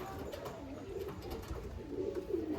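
Pigeons in a loft, Andhra and Pakistani patta birds along with Chinese teddy young, coo softly and repeatedly over a dense, low background murmur of the flock.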